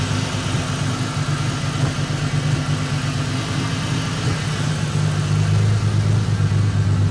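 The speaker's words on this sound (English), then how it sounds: "Obviously spluttering and carrying on a little bit there, but it is a higher compression gas motor" A naturally aspirated, higher-compression LPG engine idles steadily with an uneven, spluttering low rumble, needing a tune, running continuously and close by, growing slightly louder toward the end.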